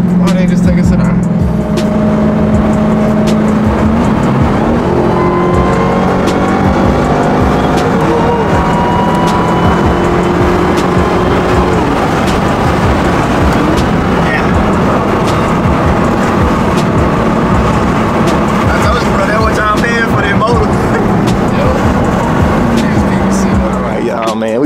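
Dodge Hellcat engine driving, a loud, continuous rumble with shifting revs and tonal whine, joined by people talking over it inside the car.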